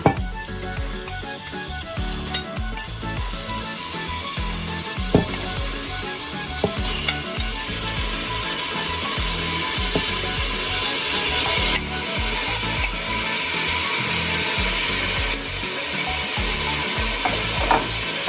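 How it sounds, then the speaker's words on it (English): Mutton pieces sizzle and fry in hot oil with golden brown onions, a steady close crackle with scraping stirs and occasional utensil knocks throughout, no talking. "We're going to add in the mutton now."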